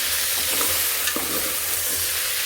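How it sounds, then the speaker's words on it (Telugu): Lentils for Telugu ridge gourd dal frying in oil in a pan, a steady close sizzle with light scraping of a spoon as the lentils are stirred. "ఈ పప్పు అనేది ఆయిల్లో కొంచెం వేగిపోవాలన్నమాట"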